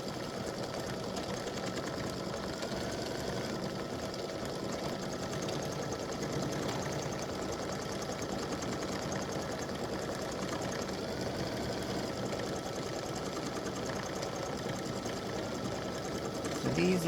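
An embroidery machine hums and rattles steadily as it stitches appliqué stars, a continuous fast mechanical drone held at an even level throughout.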